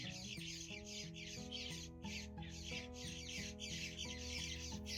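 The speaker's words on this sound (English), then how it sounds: "Mama just went in the nest. You can hear all the babies." Baby birds in a nest squawk as their mother arrives, a rapid repeating chorus of scratchy chirps in quick bursts over a patterned background hum, fairly faint and close.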